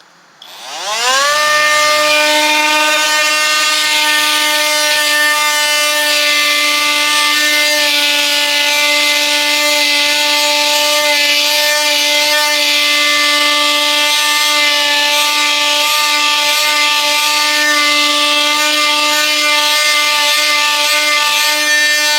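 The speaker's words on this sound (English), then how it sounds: "Nice, nice sanding job on this piece of wood as well." A steady, high-pitched mechanical whine with a buzzing, rasping edge runs continuously and loud after a quick spin-up, as a 21V oscillating tool sands a piece of wood.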